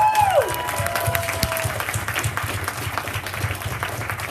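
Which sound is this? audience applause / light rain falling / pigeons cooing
audience applause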